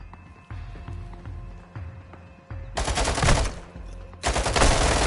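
Rapid automatic gunfire in the Modern Warfare 2 campaign, with steady bursts of shots that swell into loud, dense volleys near the end.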